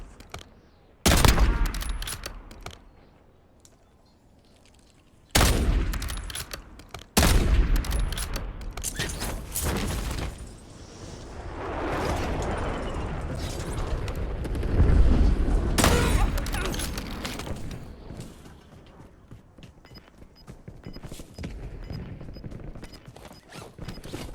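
Gunfire and heavy blasts in Call of Duty Warzone, loud bursts of shots and booms broken by short lulls, with rumbling battle noise carrying on between them.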